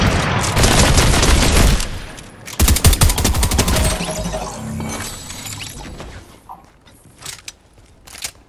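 Rapid automatic gunfire from the Fortnite video game, loud dense bursts with a short gap before a second volley, then fading into sparser mechanical clicks and a few scattered shots.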